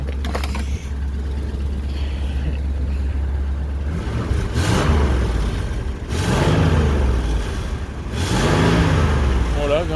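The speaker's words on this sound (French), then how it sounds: "Quand on envoie des grands coups d'accélérateur" A 1965 Ford Thunderbird engine revs up in repeated surges under a steady idle rumble, each burst of throttle rising and falling, close by.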